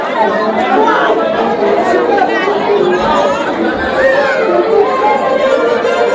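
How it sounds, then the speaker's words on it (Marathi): Dense, continuous chatter of a large crowd at the Ekvira temple, with many overlapping voices at a steady, loud level and no single voice standing out. "बघताना किती गर्दी आहे."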